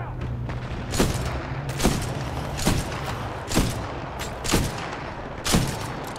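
Sniper gunfire cracks out in the video game Titanfall 2, six heavy shots at roughly one-second intervals, loud and booming over a constant low rumble of battle ambience.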